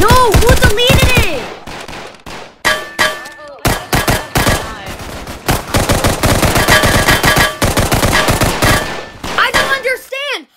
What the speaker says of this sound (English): I am shooting this cop!